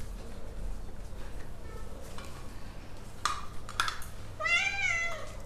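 Several cats meowing at feeding time for wet food, a few short mewing calls building to a clearer meow near the end, set against faint clinks of dishes and low room noise.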